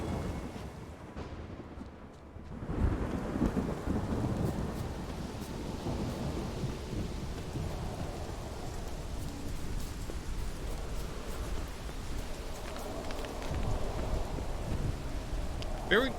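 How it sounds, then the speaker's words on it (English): Thunderstorm with rain on a stormy island in the video game Witcher 3: steady hiss of heavy rainfall with deep rolling thunder rumbles, a brief lull near the start before the downpour swells and continues loudly throughout. "Is this the island with the eternal storm?"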